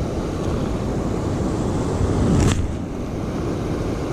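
A waterfall on an Austrian trout stream gives a steady, dense roar of rushing water. It is loud and constant, with a brief swell of splashing near the middle.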